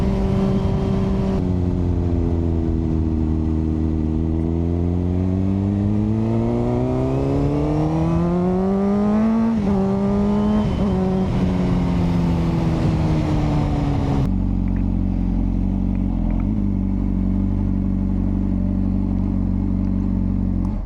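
A Honda CBR600RR sport motorcycle engine revs up and down loudly in sweeping waves, then drops to a rough, steady idle rumble.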